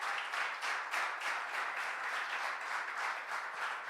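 A church congregation claps together in a steady, moderately loud round of applause during a bilingual Portuguese-English sermon, with no voices standing out.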